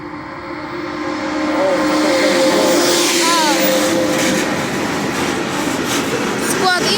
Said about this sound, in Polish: Czyli to jest ten pociąg bez zatrzymania.